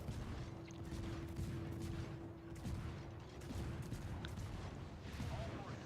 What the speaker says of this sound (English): I am going to go ahead and start shooting.